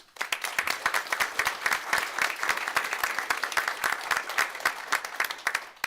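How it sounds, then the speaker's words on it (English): A crowd at a city school board meeting applauds steadily, dense clapping from many hands sustained throughout at moderate loudness. "So a round of applause to all of you."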